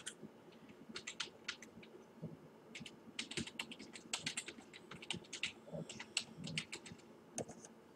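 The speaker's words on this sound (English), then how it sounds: "Then you type your website over here." Quiet computer keyboard typing in quick irregular bursts of key clicks, close and soft, as a website is entered into a keyword tool.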